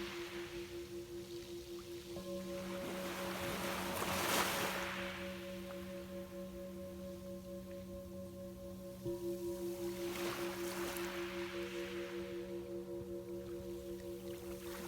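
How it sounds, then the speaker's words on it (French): Gentle ocean waves wash onto a shore in two soft swells, roughly six seconds apart, beneath steady sustained musical tones from a guided meditation. "Les vagues murmurent doucement."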